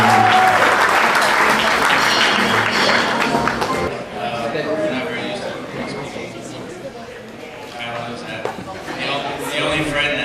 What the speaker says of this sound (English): let's give the father of the bride a round of applause